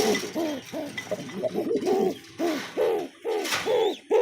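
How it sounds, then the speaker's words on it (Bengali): A male pigeon in a cage coos repeatedly, close and clear, with rhythmic rising-falling calls in quick succession, several overlapping, over faint background noise. "নটটা ওই পাশের খাঁচায় প্রচুর ডাকাডাকি করতেছে"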